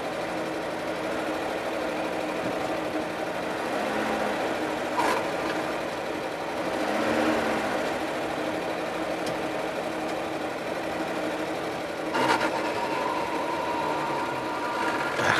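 The engine of a GAZ-66 truck runs steadily in low range, a constant close mechanical drone with some vibration and slight swells in revs, and no voices.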